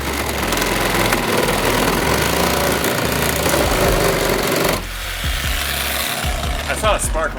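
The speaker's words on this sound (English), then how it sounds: "This can be done with a reciprocating saw, a grinder, and other household tools." A reciprocating saw cutting through the body of a 1991 Mercury Grand Marquis project car, a loud steady buzzing drone that drops off partway through, with a person speaking over it.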